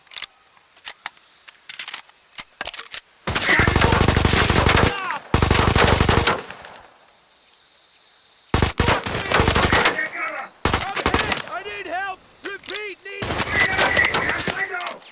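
Gunfire in Ferocious, a dinosaur shooter game: loud automatic bursts of several seconds alternating with single shots, clicks and mechanical reload sounds, separated by near-silent pauses, with someone talking occasionally.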